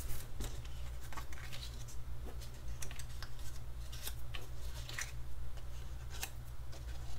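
Scissors trim one side of a paper Lawn Fawn heart pouch, giving a run of soft, close snips and rubbing strokes over a steady low hum, with no talking.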